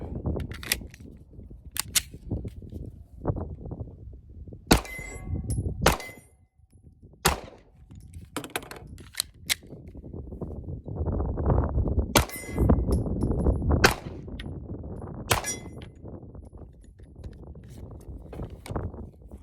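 Sharp 9mm pistol shots from a Ruger and Magpul RXM at an outdoor range, fired singly and in quick strings with gaps between, loud and close with ringing clangs like steel targets.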